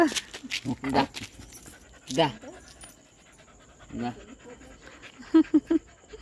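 A pet dog pants in short rapid bursts close by, with soft breathy huffs and small whimpers between quieter gaps, as someone talks to it.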